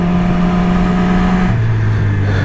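Yamaha R6 sport motorcycle engine running close and loud with a steady, even drone that drops to a lower pitch partway through, as if the revs fall, with no talking.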